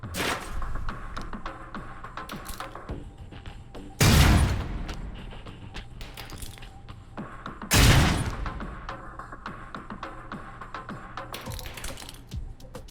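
Concussion rounds going off during gadget training in the Alpha Protocol video game: two loud booming blasts about four seconds apart, set among scattered clicks and light rattling.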